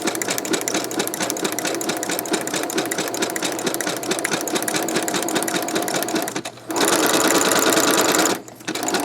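A sewing machine stitches a junk journal envelope, its needle chattering steadily and loud up close, pausing briefly near the end before running again with a stronger, faster whir.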